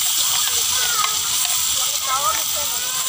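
Oil sizzling hot in a pan as aromatics go in for Thai-style lemongrass chicken, a constant close crackling hiss with someone talking over it.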